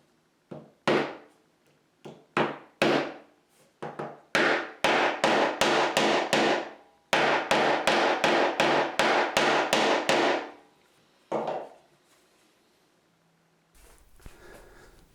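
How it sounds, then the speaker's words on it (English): Repeated sharp soft-faced hammer taps seating frets into a Telecaster guitar neck, in bursts of steady strikes separated by short pauses, close and crisp, ending with a couple of lighter knocks. "I've got a soft faced hammer and I simply just knock them in with this"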